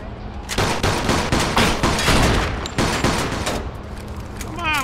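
Loud, rapid gunfire in the video game Mafia 2 fills most of the clip as repeated close shots in quick bursts, and a brief whoosh follows near the end.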